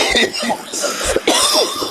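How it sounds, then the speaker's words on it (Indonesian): A single sharp cough bursts out among overlapping voices in a room, with people talking around it. "kalau batuk ditutup dulu lah"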